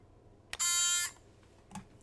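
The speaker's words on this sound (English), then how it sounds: "I had a buzzer." A Jeopardy-style trivia game show buzzer sounds once, a loud, harsh, steady buzz lasting about half a second, with faint clicks before and after in an otherwise quiet room.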